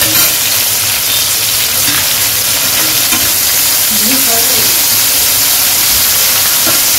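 Shrimp and green banana peels fry in hot oil with a steady, dense sizzle and hiss, stirred now and then, continuous and close throughout with a faint voice underneath.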